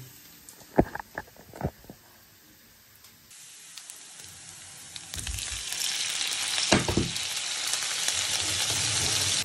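Food frying in oil in a pan, first with a few light taps and sparse crackles, then a loud steady sizzle that builds after oil is added and continues to the end, close up with no talking.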